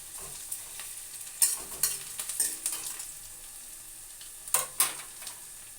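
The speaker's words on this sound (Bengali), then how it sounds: "এর মধ্যে এবার মশলাটা দিয়ে দেবো।" Onion frying in oil with garlic, ginger and chilli paste added for a lote fish curry, a soft steady sizzle broken by several sharp stirring scrapes and spatters.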